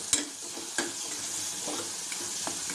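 A spoon scrapes and stirs chili powder and coriander powder through a sizzling pan, a steady frying hiss with a few sharp metallic clinks and scrapes up close, no talking.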